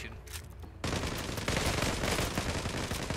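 Rapid automatic weapon fire in the online shooter Zula rattles in a dense, continuous burst, starting faintly and then jumping to loud, sustained shooting.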